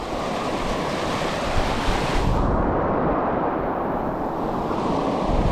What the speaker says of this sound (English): We got beautiful waterfalls here,